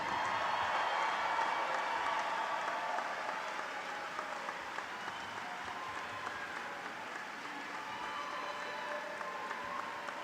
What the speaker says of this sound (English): welcome you all to cheer on the newest graduates of New Berlin Eisenhower, the class of 2023